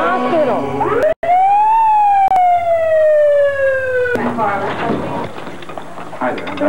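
An ambulance siren wails loud and close, a single long rising-then-falling tone, followed by a burst of busier mixed noise.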